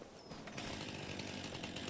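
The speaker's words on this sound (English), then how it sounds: "I think we have a chainsaw, right?" A chainsaw in Farming Simulator 25 cuts deadwood, the motor roaring loud and close in a steady buzzing whine that swells after a brief rev at the start, with no voices.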